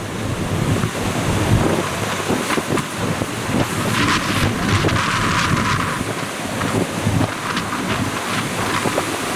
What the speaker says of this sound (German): Guckt euch mal das Meer an.